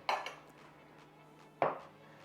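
A spoon mixes a beer cocktail with fresh lime juice, striking the glass in two distinct close clinks about a second and a half apart, with quiet in between.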